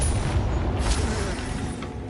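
Bombarda and Confringo spell explosions from a Harry Potter video game: a dense, steady rumbling boom with bursts layered over game ambience, and no speech.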